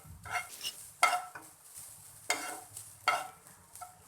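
Pizza toppings fry in butter in a pan, with a soft sizzle broken by several distinct stirring scrapes and clinks of a utensil, close and fairly quiet.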